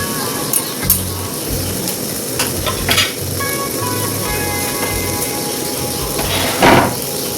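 Spiced potato curry masala for vegetarian aloo dum sizzles and fries steadily in a pan, with a spoon scraping and stirring at intervals and an occasional clink of metal, close and fairly loud throughout.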